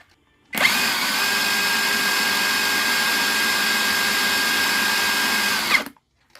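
An APR AP 126 PROMAX or KAMOLEE DTW500 impact driver running flat out at maximum RPM, a loud, steady high-pitched whine that starts abruptly, holds for about five seconds, then cuts off.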